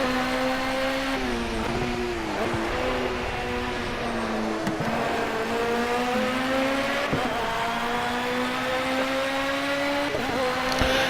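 A BMW M3 GT3 race car in the Project CARS simulator laps Brands Hatch with its engine loud and continuous, the pitch rising through the gears and dropping at each upshift and braking zone.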